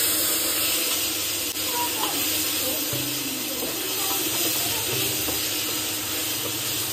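A masala of coriander powder and garam masala sautéed in a pan, giving a loud, steady close sizzle and hiss with faint stirring scrapes throughout.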